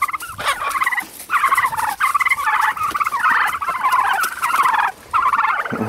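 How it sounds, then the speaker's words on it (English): A flock of homestead turkeys gobbles in rapid, loud, warbling bursts close by, one call after another with brief pauses and no talk. "I love the turkeys."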